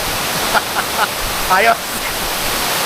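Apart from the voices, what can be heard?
Tamaraw Falls waterfall, Puerto Galera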